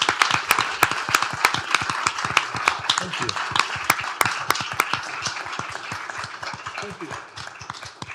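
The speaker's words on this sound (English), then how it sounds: "Let's please give these folks a big round of applause" A round of applause at a county commissioners court meeting after a unanimous vote, with sharp individual claps spaced through the room, steady then tapering, while a voice thanks people over it.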